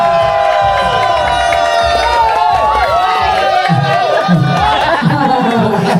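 Crowd at a Christmas party cheers and whoops for a performer, loud excited shouting and overlapping voices with scattered clapping underneath, sustained throughout.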